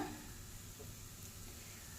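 Soft, continuous sizzle of spices frying in hot oil, quiet and steady throughout.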